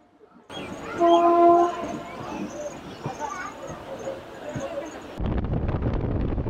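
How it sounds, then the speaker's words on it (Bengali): A passenger train runs with steady rumble and wind roar heard from inside a sleeper-class coach on a route through Araku Valley, Andhra Pradesh, with a horn-like tone early on and the noise growing louder and rougher near the end. "আজকে এই ট্রেনে আমি স্লিপারে যাচ্ছি"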